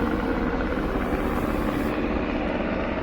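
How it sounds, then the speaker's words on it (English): An airplane passes overhead above a flower garden in Waldorf, Maryland, a loud, continuous engine roar that fills the whole stretch without talk. "A plane is passing."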